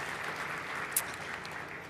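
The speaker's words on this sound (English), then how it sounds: "another round of applause, please, for that fantastic update" A fairly faint round of applause from a conference audience at a climate week event continues evenly, with one sharp clap standing out near the middle.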